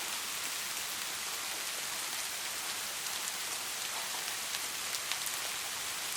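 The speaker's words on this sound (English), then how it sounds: "The rain, now a torrential downpour, played a haunting melody on the roof, creating an otherworldly ambiance." A torrential downpour drums on a roof as a dense, unbroken wash of rain, loud and steady throughout with scattered sharper drop impacts and no voices.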